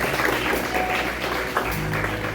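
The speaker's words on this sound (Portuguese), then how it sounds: "Vamos aplaudir forte ao Senhor" Congregation clapping loudly during a church worship service, a short steady burst of many hands with a faint tonal background from music or voices underneath.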